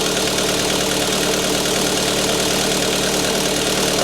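An engine idles on a cold start, a loud, steady, dense rumble with faint knocking running unbroken and near, with no voices.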